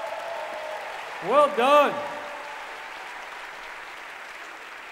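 Steady audience applause fills the room at a class of 1988 reunion show, a continuous wash of clapping with a brief spoken remark over it.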